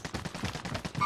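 Gunfire in an online shooter video game: a rapid string of sharp automatic bursts, about eight shots in just over a second, fairly loud and close.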